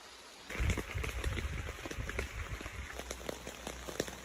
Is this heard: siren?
no